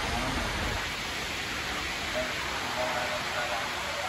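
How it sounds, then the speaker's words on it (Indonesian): Rain falls steadily as a constant hiss beside a bus in sunny weather, even and unbroken throughout with no clear voices. "kondisi PO Haryanto ini hujan tapi cerah ya, hujan tapi cerah"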